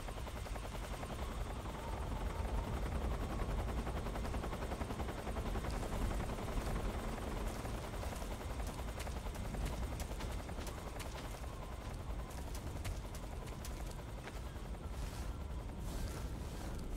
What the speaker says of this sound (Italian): Occhio all'elicottero.